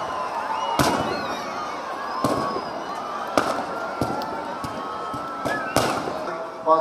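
Dussehra festival fireworks crackle and boom in a steady series of sharp bangs, some louder than others, over a continuous murmur of a large outdoor crowd.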